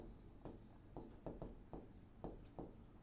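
Writing on a board during a tenth-grade maths lesson on linear equations: a quiet, close series of short scratchy strokes in an uneven rhythm, heard alone without talk.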